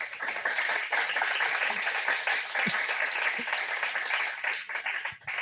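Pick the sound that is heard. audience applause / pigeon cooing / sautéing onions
audience applause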